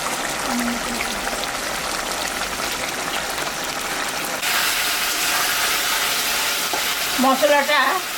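A spice paste with chopped tomato cooks in a pan for a fish curry, giving a loud, close, continuous sizzle with stirring scrapes. The sizzle turns brighter and stronger partway through, and a faint voice comes in near the end.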